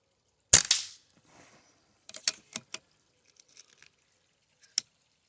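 An airgun fires at a biathlon target 25 yards away. A single sharp crack is followed by a few faint metallic clicks and clinks as target paddles react, then one more sharp tick, all against near silence.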